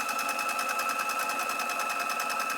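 A sewing machine runs steadily, stitching the back pleat of a pair of bisque trouser shorts, with a fast even whirr that holds at close range and no pauses.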